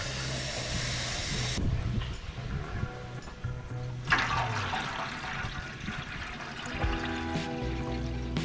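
Water poured from a container into the water pan of a Big Green Egg smoker set up for smoking a pork butt, a steady splashing stream that shifts in tone as the pan fills.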